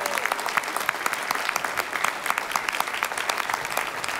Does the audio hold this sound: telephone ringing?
no